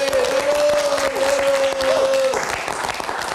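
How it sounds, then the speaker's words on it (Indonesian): A studio audience on a live Indonesian night talk show breaks into loud, dense applause, with a sustained tonal sound running over it for the first two seconds before the clapping continues alone. "Kita berikan tepuk tangan dulu untuk Nurul."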